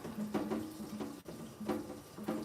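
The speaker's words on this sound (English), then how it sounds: "I don't have a sprayer on my faucet, so it actually takes me a little bit longer to get it rinsed." A kitchen faucet without a sprayer runs steadily while a juicer hopper is rinsed, the water splashing and shifting in pitch as the part moves under the stream, close and continuous with no talking.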